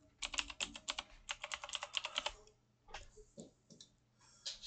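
A password goes in on a computer keyboard as quick bursts of close, crisp key clicks, a rapid run of taps, a brief pause, then a few scattered keystrokes, with no voices.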